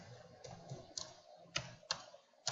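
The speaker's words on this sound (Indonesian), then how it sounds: "maka kita bisa mengetik" Keys tapped on a computer keyboard while entering plot labels in MATLAB, a few sharp separate clicks in an irregular rhythm, moderately close and fairly quiet, with no speech.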